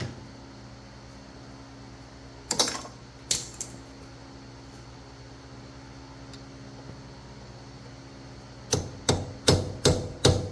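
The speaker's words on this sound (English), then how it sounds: "Gonna have to tap our socket in there." A socket is tapped into place on a front strut of a 2003-2009 Toyota Prius, sharp metallic knocks sounding twice early and then as a quick run of five or six strikes near the end, over a faint background hum.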